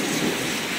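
Heavy rain pours down at a metro station in Qatar, a dense, steady hiss of downpour with no pauses and no voices.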